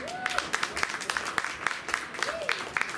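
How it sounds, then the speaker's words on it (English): Scattered clapping from the audience at a youth sheep show at a county fair ring, light and uneven rather than a full ovation, with a voice talking over it. "Let's go ahead and give him a round of applause"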